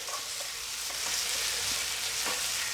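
Beef sears in a hot pan with two cloves of garlic, giving a steady, dense sizzle and crackle that runs throughout with no talking.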